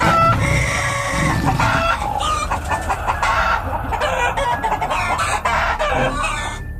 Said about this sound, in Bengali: মুরগিগুলো এরম ভাবে ডাকছে কেন?